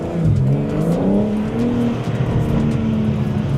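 Stock BMW M4 engine running loud and close, a steady deep growl with gently rising and falling revs, heard alone without talk.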